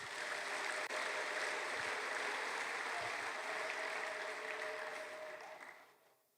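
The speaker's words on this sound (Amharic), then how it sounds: "አጨብጭቡ ለጌታ።" A church congregation claps for the Lord during a pastor's sermon, with steady, dense applause from many hands that holds strong, then tapers off and fades out near the end.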